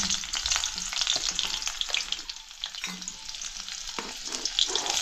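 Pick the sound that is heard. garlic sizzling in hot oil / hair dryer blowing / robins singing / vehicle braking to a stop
garlic sizzling in hot oil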